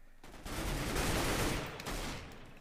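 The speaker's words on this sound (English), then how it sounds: "I'm just missing shots left and right." Rapid gunfire from the Minestrike video game, a dense burst of shots lasting about two seconds, loud and continuous, with no voices over it.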